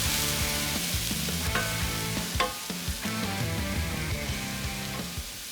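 Onions and mushrooms sizzle steadily in a pan as a wooden spoon stirs them, giving a close, continuous frying hiss with occasional scraping knocks.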